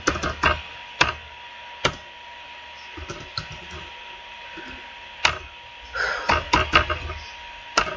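A computer keyboard clicks in quick, irregular bursts while code is typed in during a programming lecture on arrays. The keystrokes come close and crisp, with short pauses between clusters over a low steady hum.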